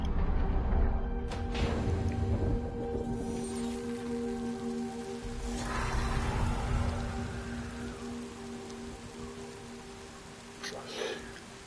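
Steady rain in the video game Death Stranding 2 patters continuously over a low, droning ambient hum, with a few louder splashes and rustles along the way.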